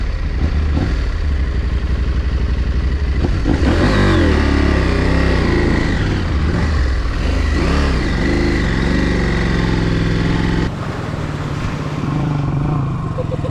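A KTM 890 adventure motorcycle powers through sand, its engine revving hard and surging continuously at close range, with a brief dip in intensity near the end.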